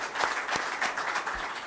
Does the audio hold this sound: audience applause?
yes